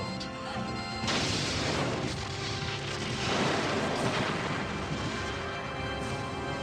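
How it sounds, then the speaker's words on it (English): Borg weapons fire in the Star Trek Borg game as crashing, rumbling blasts, with one heavy burst and a second swell that both fade into a steady, noisy din. "The Borg are firing! We're gonna die!"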